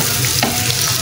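Maghaz (brain) fries in a hot pan, giving a loud, dense, continuous sizzle heard up close. It is brief, with no voices.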